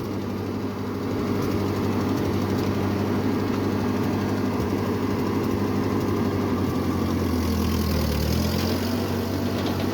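A 1948 Ford 8N tractor engine runs with a steady, loud low rumble, close by and continuous, dipping briefly near the end as the gear changes.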